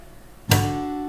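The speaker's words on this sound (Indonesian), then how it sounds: "Jadi untuk si slapnya pada saat kita slap itu bunyi ya." A single slap on an acoustic guitar string, a sharp percussive hit that rings briefly into a sustained chord, close and alone.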